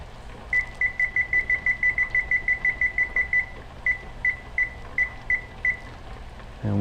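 A kitchen timer set for canning butter gives a fast run of short, high electronic beeps, then a slower series of spaced beeps, loud and close with no talk.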